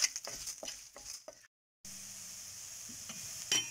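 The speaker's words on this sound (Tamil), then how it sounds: "இதல கொத்தமல்லி விதை மிளகு சீரகம் சோம்பு இத எல்லாத்தையும் வந்து போட்டு நல்லா வறுத்து எடுத்துக்கலாங்க" Coriander seeds, black pepper, cumin and fennel dry-roasting in a pan over a slow flame, giving a close, steady dry sizzle with stirring and scraping scratches, a brief silent gap, then a continuous even hiss.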